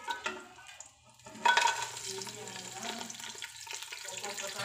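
Dried chillies, cinnamon sticks and cloves dropped into heated oil for fry piece biryani, a sudden burst of sizzling that settles into steady frying crackle, close and moderately loud with faint clinks of stirring.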